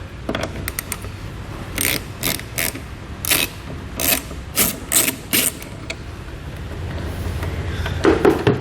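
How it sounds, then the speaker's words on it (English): A 13mm socket wrench loosens the nut on a jump post at a car battery. It gives a run of short close ratcheting clicks in bursts, followed by faint handling noise, and no talk. "I want to grab a 13mm socket so we can take that jump post out."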